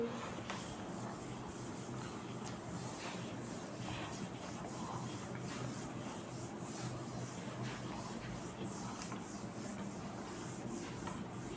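A board being erased by rubbing during a kinematics graph lesson, heard as a steady, continuous scrubbing swish that runs unbroken at an even level from start to finish.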